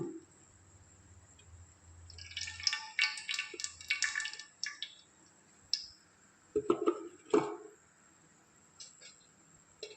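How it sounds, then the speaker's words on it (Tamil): Cooking oil poured into a pan for brinjal curry: a few seconds of soft, close liquid rustle and spatter, followed by scattered light clicks and taps of kitchenware in an otherwise quiet kitchen. "இப்போ பாருங்கள், ஆயில் வந்து கொஞ்சம் சேர்த்தே ஊற்றிக்கலாம்."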